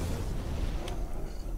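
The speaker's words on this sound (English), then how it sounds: "Explosions everywhere." Explosions in the video game Borderlands, heard as a dense, low rumbling roar that fills the stretch, with one brief sharper burst near the middle.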